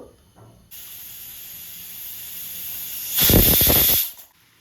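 Pressure cooker whistle on a stove while cooking rice for daddojanam, a steady hiss of venting steam building to a loud, rushing burst near the end before cutting off.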